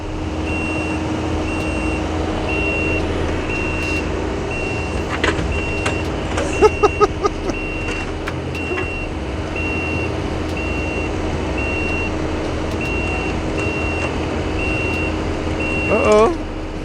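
Truck reversing at a scrap yard sounds a steady, regular backup beeper over a low idling engine rumble, with a few brief clanks partway through and a short louder burst near the end.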